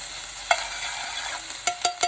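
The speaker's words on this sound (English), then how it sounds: "We're just gonna start to fry those up." Aromatics fry in hot oil in a pan, giving a steady, bright sizzle with a few sharp stirring clicks near the end, close and moderately loud, with no one talking.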